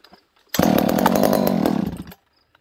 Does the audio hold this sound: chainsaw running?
yes